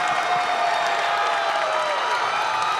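An arena crowd at a grappling event roars without a break after a local fighter taps an opponent out with a deep guillotine, a dense, loud wall of cheering and whooping that holds steady throughout.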